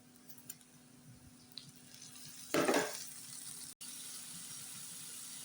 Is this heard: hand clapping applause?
no